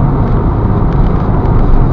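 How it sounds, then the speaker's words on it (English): Steady low road rumble and tyre roar inside a 2006 Ford Fiesta Zetec 1.4 on the move, a constant dense drone with noise from underneath, no talking. "The ride's very noisy, got a lot of outside noise, a lot of noise from underneath the car."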